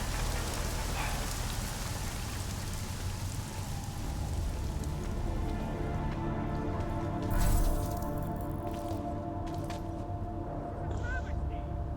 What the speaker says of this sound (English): At least get us out of the rain.